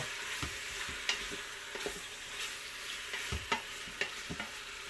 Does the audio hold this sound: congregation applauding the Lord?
no